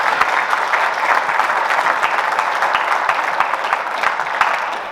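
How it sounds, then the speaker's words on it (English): An audience at a sports hall of fame banquet applauds steadily, a dense, loud, sustained clapping from a large crowd with no break throughout. "we wanted to give a big round of applause to the monument for that delicious meal"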